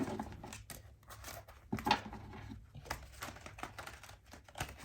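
A tarot card deck is shuffled by hand in a rapid, uneven run of soft riffling and papery flicks and crinkles, close and fairly quiet with no talking.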